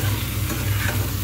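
Cumin seeds and a few fenugreek seeds frying in hot oil, stirred steadily in the pan with a continuous close sizzle and scraping under no talk.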